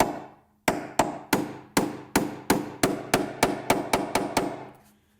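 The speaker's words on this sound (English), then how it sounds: "we can finish that off with a nail set" A hammer strikes a nail set to finish driving a nail into soft cedar, fifteen sharp, evenly spaced blows that quicken slightly toward the end, close and clear with no talk.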